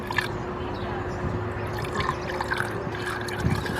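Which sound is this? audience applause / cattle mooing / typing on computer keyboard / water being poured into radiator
water being poured into radiator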